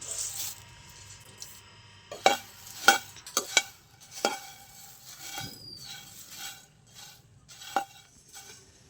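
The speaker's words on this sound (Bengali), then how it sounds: "তো এটা একটু আমি শুকনো খোলায় একটু নেড়ে নেব" Puffed rice being stirred in a dry pan, with sharp, irregular clinks and scrapes of a utensil against the metal and a soft rustle between them, close and moderately loud, with no voices.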